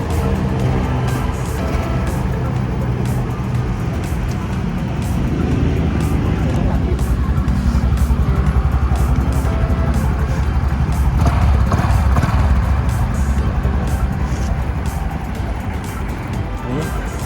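A Honda DAX 125 motorcycle engine idles steadily and close by, a continuous low rumble with small fluctuations throughout.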